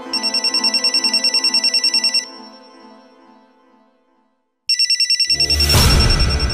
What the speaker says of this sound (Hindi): लगता है रवि का फोन होगा।